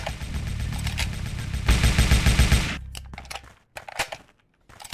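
Rapid automatic gunfire from a gun wielded by a baby character in a video game, dense bursts that build, then cut into a few sparse shots and clicks before going quiet.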